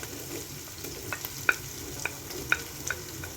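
Onions softening in a pan ahead of peppers, with a steady low fry hiss and a handful of sharp clicks and taps from stirring spaced through it.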